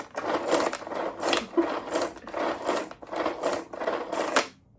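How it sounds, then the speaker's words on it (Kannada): A Pigeon brand manual vegetable chopper is pulled repeatedly, giving about six rhythmic, rasping whirs in quick succession, close and fairly loud, with no talk. "ಅದು ಇದು ಪಿಜನ್ ಬ್ರ್ಯಾಂಡು ವೆಜಿಟೇಬಲ್ ಚಾಪರ್."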